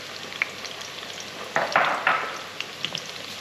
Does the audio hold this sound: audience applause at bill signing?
no